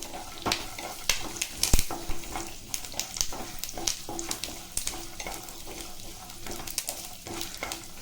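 Cumin, curry leaves and peanuts fry in a pan for an ivy gourd dish, giving a crackly sizzle with sharp pops and spoon-stirring knocks, close and uninterrupted by speech.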